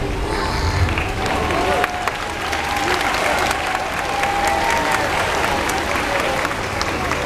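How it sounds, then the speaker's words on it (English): An audience at a pilot whale show claps and cheers loudly and continuously, a dense wash of applause that stays steady, with some voices mixed in. "feel free to cheer for her, clap for her"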